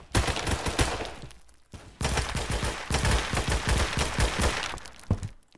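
Rapid automatic gunfire in the shooter game Phantom Forces, loud, close bursts of cracking shots crowding most of the stretch, with a brief gap and a few scattered single shots near the end.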